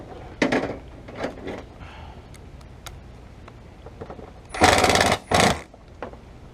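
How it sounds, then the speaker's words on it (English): A small impact wrench drives roof bolts back in on a gutter repair, two short loud rattling bursts near the end after scattered clicks and handling knocks. "There's a little impact wrench that helps with some situations"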